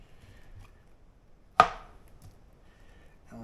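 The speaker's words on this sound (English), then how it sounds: "I'm going to cut the bananas up" A knife cuts through a banana in one sharp, close chop, a single clean hit standing out against a quiet kitchen background.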